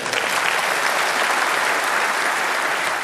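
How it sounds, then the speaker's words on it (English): Sustained applause fills a large hall at a Conservative party conference after a speech, a loud, dense wash of many hands clapping steadily throughout, with no speech over it. "Don't know what that is yet, but I'm going to clap anyway because, it's conference"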